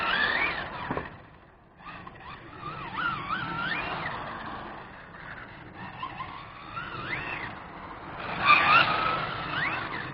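A 1/5-scale FG drift car accelerating and sliding, tires squealing in wavering bursts over a buzzing engine, with a brief pause before another loud squealing slide near the end.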